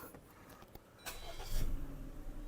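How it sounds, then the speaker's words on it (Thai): A Suzuki Ciaz 1.2 GLX engine cranks and catches after a few faint clicks, then settles into a low, steady idle, fairly quiet and close. "ขออนุญาตทำการสตาร์ทให้ดูงานเครื่องยนต์นะครับ"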